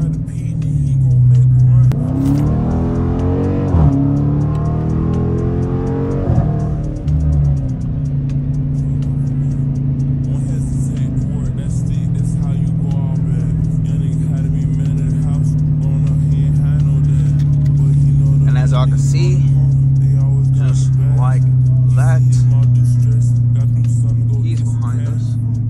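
Dodge Challenger R/T pulling away from a stop to about 30 mph, a loud steady engine drone with a brief rising rev early on, someone talking over it.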